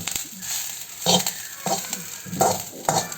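Masala idli is stirred and tossed in a hot pan, with repeated scraping spatula strokes every half second or so over a light sizzle, close and fairly loud, with no voices.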